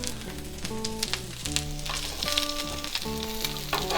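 A crowded skillet of food sizzles loudly and steadily, with bright crackle over the frying, close by and with no voices.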